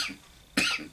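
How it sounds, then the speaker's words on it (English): A single sharp cough from a person with allergies bursts out midway through an otherwise quiet stretch, close and fairly loud, with a short tail after it. "I have allergies, so that's why sometimes I have a cough."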